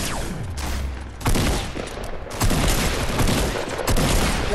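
Gunfire in the video game Fortnite: bursts of loud rapid shots crack out in clusters, close and harsh, with a brief pause between volleys.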